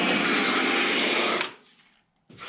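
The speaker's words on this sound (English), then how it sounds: "demoing the rolling pin style sander that I just got today from Elevate Lutherie" A rolling pin style sander from Elevate Lutherie, used on guitar work, whirs loudly and steadily for over a second, then cuts off and spins down. After a short silence, a brief burst of noise follows.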